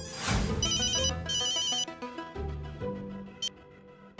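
Phone ringing on an outgoing call, a tonal ringtone heard in short repeated bursts near and clear, with brief gaps and no talk.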